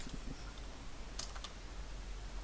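Typing on a computer keyboard, a few soft, scattered key clicks with a short burst in the middle, faint against a low background hum.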